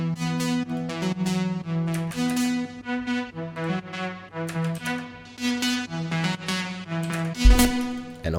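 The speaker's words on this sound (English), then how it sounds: "So the lead sounds like this, layers." Layered synth lead for an Afro house track, processed with OTT compression, reverb and EQ and heard solo: a bright, buzzy melodic line of short and held notes, fairly loud, with one thump near the end and no voice.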